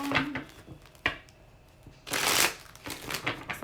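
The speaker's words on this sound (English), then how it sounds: "Sorry, I had to shuffle out my deck" A tarot card deck is shuffled up close in quick riffling bursts with soft taps between, loudest near the end, and no one speaks.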